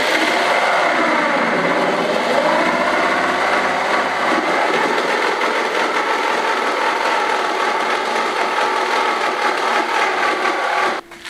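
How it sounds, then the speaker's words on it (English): A jigsaw cuts wood along a marked line in a farmhouse renovation in Spain, a loud, steady buzzing rasp that runs continuously up close before stopping abruptly at the end. "then simply follow the line with the jigsaw"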